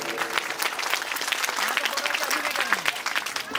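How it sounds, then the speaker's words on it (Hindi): Audience clapping at a school event in a speech hall, a crowd's scattered, lively applause running throughout, moderately loud with uneven individual claps. "तो पत्थर पे गुल खिलाने वालों के लिए एक जबरदस्त ताली होनी चाहिए।"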